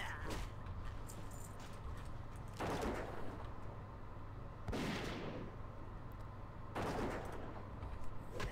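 Gunshots from a dwarf hunter's ranged weapon in World of Warcraft Classic Hardcore, three distinct loud bursts spaced a couple of seconds apart over a steady game background hum.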